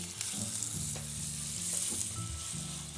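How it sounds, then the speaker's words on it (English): Steady, crackling sizzle of steak searing in a hot pan, close and continuous, with faint scraping or shifting underneath. "listen to this sizzle"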